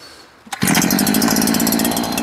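A BU-KO multi-tool trimmer's small two-stroke engine catches after a brief pull-start rattle and jumps straight into a loud, steady, buzzing run close by.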